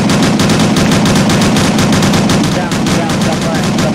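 Rapid continuous gunfire from a video game battle, Operation Winterstorm, with loud automatic bursts rattling steadily throughout at close range.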